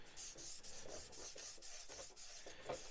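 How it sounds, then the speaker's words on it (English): Enamel panel line wash is rubbed off the surface of a Revell 1/32 He111 model kit in quick, rhythmic back-and-forth strokes. The scratchy rasp is close, soft and continuous, with no voices. "the more you rub, the more you take off"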